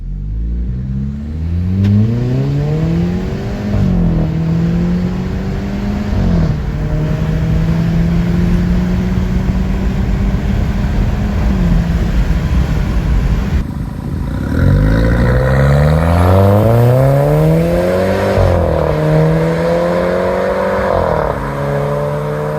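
A 209,000-mile Audi A4 with a stock muffler and catalytic converter, floored from 0 to 80 mph and heard from outside. The loud engine and exhaust note climbs repeatedly through the gears, dips briefly at each shift, then surges upward again.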